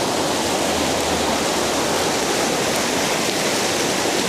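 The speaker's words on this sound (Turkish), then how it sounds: "Burası da şıldır şıldır akıyor vallahi." A stream flows beneath a bridge beside an unpaved dirt road, a steady, loud, broadband rush of running water that continues alone without pause.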